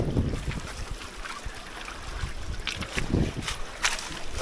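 The swollen Chisang river rushes past in a broad, steady roar of flowing water, close to the microphone, with wind buffeting and occasional louder surges.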